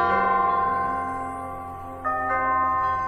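A bell in the Minecraft video game rings with bright sustained metallic tones, one strike decaying and then a second strike layered on top, loud and clean with no talking.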